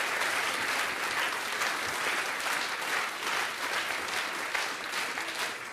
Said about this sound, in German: Danke vielmals, das ist euer Applaus.